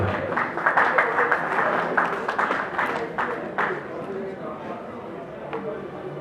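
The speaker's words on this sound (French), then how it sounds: "Est-ce qu'on peut l'acclamer, s'il vous plaît?" An audience at an awards ceremony claps in a dense burst of applause that fades over several seconds, with voices mixed in.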